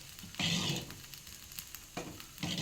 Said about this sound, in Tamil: பொங்கல் நல்லா பொங்குது அப்படியே வேகட்டும்ங்க